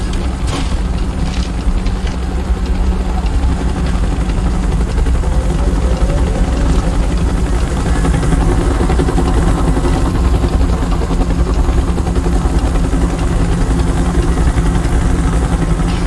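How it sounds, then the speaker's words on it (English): A helicopter arrives in Call of Duty Black Ops, its dense rotor and engine roar filling the whole stretch at a loud, constant level with no voices over it. "Chopper's inbound!"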